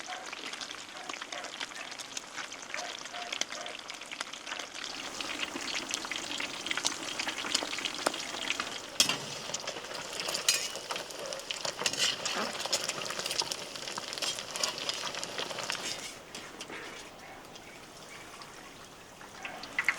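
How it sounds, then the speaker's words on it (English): Eggs sizzle and crackle steadily in a hot frying pan, a continuous bright hiss with small pops throughout. "In go the eggs. Hear that sizzle?"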